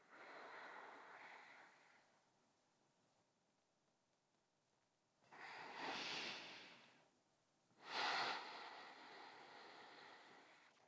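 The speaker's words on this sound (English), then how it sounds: "breathing deeply" Two slow, deep breaths from someone lying on the floor in a yoga relaxation; each is a soft, airy swell that rises and fades, set apart by near-silence, with no talking.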